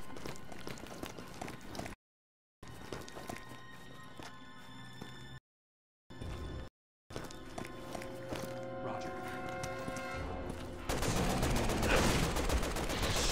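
Enemy gunfire in Resident Evil 6, bursts of shots mixed with running footsteps and game music, broken by short silent gaps, with voices speaking and a louder, denser barrage near the end.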